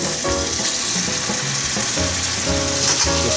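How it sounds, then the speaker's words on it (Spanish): Onion frying in a pan as garlic is added, a steady close sizzle with bursts of stirring and scraping, no talk, while preparing arroz tapado. "la cebolla ha refrito por espacio de 2 minutos. Es a este punto donde vamos a agregar nuestros ajos."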